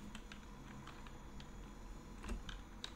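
Scattered light key taps on a computer keyboard while entering a search in a phone's stock browser, irregular clicks over a steady low hum, fairly faint and with no talking.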